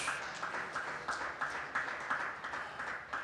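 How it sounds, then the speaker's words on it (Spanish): A church congregation claps in a steady, rhythmic beat during a Spanish-language service, even pulses of hand claps repeating about twice a second, moderately loud and slightly distant. "Denle un aplauso al Cordero de Dios."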